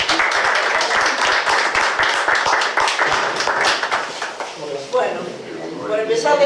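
Audience applause for architect Cristina at a tribute event for Sorrento station in Fisherton, Rosario, with dense steady clapping that thins out toward the end as voices take over.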